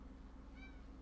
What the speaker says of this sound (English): You loud enough, cat?